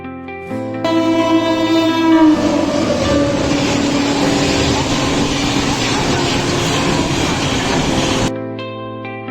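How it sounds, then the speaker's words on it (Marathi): A train pulls into a station in Mumbai, arriving at Dadar, with a loud, sustained rumble and grinding, a horn-like tonal drone at the start, then the noise cuts off. "ट्रेनची वाट बघतात. ट्रेन येईल तेव्हा जाणार."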